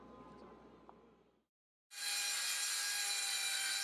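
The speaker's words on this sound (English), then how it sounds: "sawing plywood for the windows of this antique store" Quiet rustling fades to a brief silence, then a loud, continuous power saw cuts through plywood for the rest of the clip.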